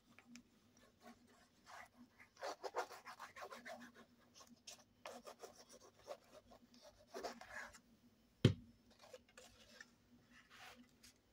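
A bone folder rubs and presses a glued paper flap on a handmade folding paper album, making quiet, intermittent scraping strokes with one sharp tap near the end, close-up and soft.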